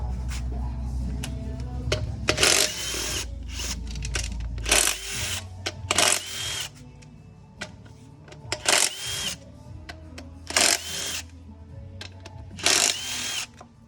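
A large impact gun hammering loose over-torqued bolts on a Ram diesel 68RFE transmission during teardown, repeated loud bursts of rattling impacts separated by short pauses, over a low steady shop hum.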